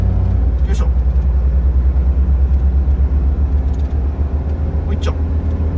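A Toyota Camroad camper truck's engine pulls hard in first gear with a loud, steady rumbling drone under road noise, joined by a couple of brief squeaks.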